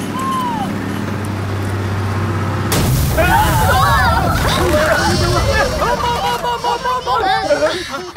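A bus tyre bursts in a film scene: a sudden loud bang at about 2.7 seconds cuts through music, followed by dense, busy noise mixed with talk.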